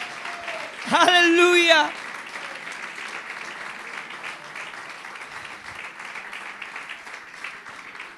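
A church congregation bursts into applause for about a second, a brief loud clatter of clapping among voices, then fades into quieter room ambience with scattered sounds from the worshippers.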